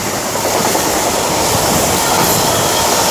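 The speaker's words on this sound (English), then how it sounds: "There's also a Pendolino that just passed by underneath, bound for London" A Pendolino train passes on the West Coast Main Line at Tamworth, a loud, steady rush of wheels and rail noise with faint clicking, no voices.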